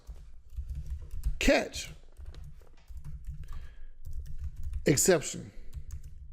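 Typing on a computer keyboard while writing Java exception-handling code for Selenium, a steady run of close keystrokes that carries on between two short bursts of speech.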